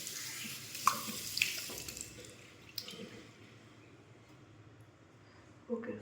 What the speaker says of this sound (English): Let me just wash my face.